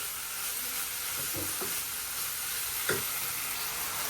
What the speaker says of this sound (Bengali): এই দেখো ভালোভাবে একটু কষায় নিতেছি